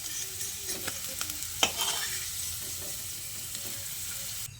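Potato pieces fry in hot oil in a wok, a steady close sizzling hiss with scraping stir strokes and one sharper clack near the middle.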